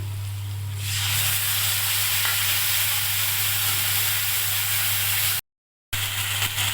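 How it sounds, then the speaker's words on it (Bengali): Ground spice paste sizzles steadily in a pan over fried onions for a katla fish curry, a loud, continuous hiss with a low hum underneath and a brief dropout near the end. "এবার বেটে রাখা মশলা দিয়ে দিচ্ছি"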